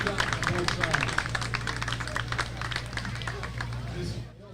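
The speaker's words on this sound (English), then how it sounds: "I'd like to give both teams a great round of applause for the best teams out here." Applause from the crowd at a 12U girls softball championship between Great Kills and Snug Harbor, steady dense clapping sustained for several seconds over a low hum, with crowd noise mixed in, fading out at the end.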